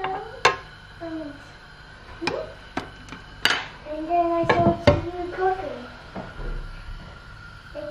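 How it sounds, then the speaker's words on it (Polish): American pancakes are flipped in a frying pan with a turner, producing scattered sharp metallic taps and knocks against the pan while someone talks over them. "Z jednej strony przerzucamy je na drugą."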